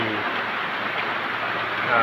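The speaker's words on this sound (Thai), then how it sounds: "ฝนกำลังตกนะครับท่านผู้ชม" Steady rain pours down on farm fields in a dense, even hiss, close and continuous, with a voice speaking over it.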